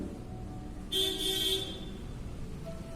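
External road traffic hums faintly in the background while a car horn toots in a short burst of a few quick beeps, distant and fairly quiet, with no talking.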